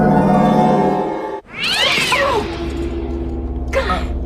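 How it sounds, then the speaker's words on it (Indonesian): A cat meows loudly and close, two sharp cries after a brief gap, with a steady low hum beneath, in a scene from a Chucky horror movie where the pet is hidden behind a wardrobe. "itu hanyalah kucing milik si Jack bersama dengan si boneka Chucky tersebut"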